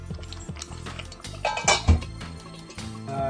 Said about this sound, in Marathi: आता ही भाजी आपण झाकण लावून शिजायला देणार आहोत